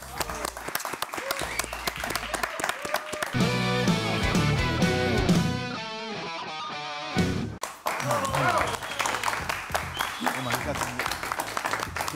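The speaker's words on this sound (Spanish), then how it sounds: "Un aplauso para Luli" Studio audience claps for Luli on a Colombian comedy show; bursts of applause mix with music and voices, dipping briefly before clapping resumes.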